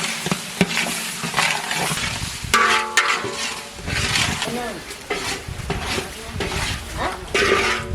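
Tomato, onion and ginger-garlic paste are stirred in a pot, a spoon scraping and clinking against metal over a soft sizzle, with a voice talking in the background.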